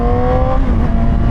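Loud, close rev of a 2007 Yamaha R6 sportbike engine, a steady high-pitched drone with rising harmonics under hard acceleration, filling the short burst without pause.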